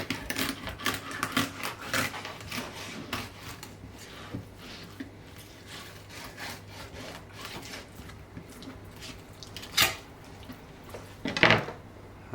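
A knife working through fresh lake-caught fish while filleting: irregular scraping and slicing strokes with soft rubbing and occasional sharper taps against a board, close by, with two louder knocks near the end.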